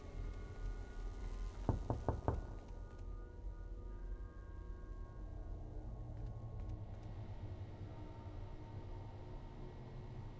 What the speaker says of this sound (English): I just heard a door knocking.